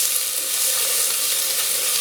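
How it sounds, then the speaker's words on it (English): Peppers sizzle steadily in olive oil in a hot pan, a close, constant crackling hiss. "I love that sizzling sound."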